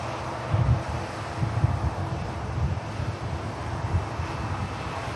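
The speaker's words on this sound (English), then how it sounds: "Yeah, this aircraft shouldn't use too much runway." An aircraft at Manchester Airport rumbles in the distance as it taxis, a low, steady engine roar blended with heavy wind buffeting on the microphone and a few gusty low thumps.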